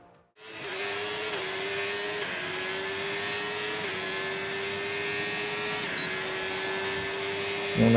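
Racing car engine from a racing video game during a free practice session at Mexico City, a loud sustained high whine that climbs through several gear shifts, each upshift dropping the pitch before it rises again.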